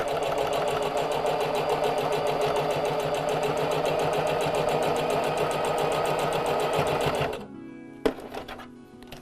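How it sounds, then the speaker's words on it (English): A sewing machine runs fast and steady around a fabric face mask, its needle chattering in a tight, even rhythm for several seconds before stopping. A couple of sharp clicks follow in the quiet. "bring it back over to the sewing machine"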